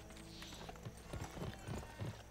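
Horse hooves clip-clopping in the western video game Gun, a steady rhythm of soft hoofbeats at close range over a constant low background ambience, with no talk over it.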